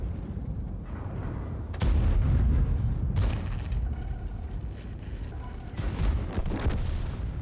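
Gunfire in a video game: repeated heavy, booming shots in irregular bursts over a rumbling low background, fairly distant and moderately loud, no talk.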